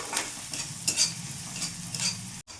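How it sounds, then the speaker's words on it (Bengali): Softened onion frying in a pan, a constant close sizzle broken by repeated spatula stirs and scrapes at an uneven rhythm, with a short gap near the end. "পেঁয়াজটা একটু ভাজা ভাজা করে নিয়েছি একদম নরম হয়ে গেছে"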